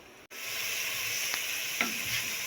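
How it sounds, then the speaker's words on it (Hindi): Spice masala with cauliflower and peas fries in hot oil in a pan, giving a steady close hiss of sizzling that starts abruptly after a brief silence, with a couple of soft stirring clicks. "तकरीबन 2-3 मिनट के लिए हम इसे अच्छी तरह से भूनेंगे"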